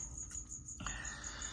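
Crickets kept as live food for a pet lizard chirp steadily in a continuous high trill, close and fairly quiet, with a brief shuffling noise partway through.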